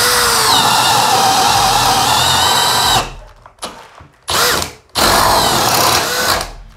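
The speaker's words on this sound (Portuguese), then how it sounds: "Agora repetindo o teste de perfuração, só que agora em madeira de angelim. Broca de 3 pontas de 10 mm." A Bosch GSB 185-LI cordless drill with a 10 mm three-point bit boring into angelim hardwood, whining loud and steady for three seconds, then stopping and restarting in short bursts before a final sustained run.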